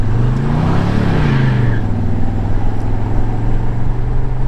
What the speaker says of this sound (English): Let's get this thing out on the road for a drive.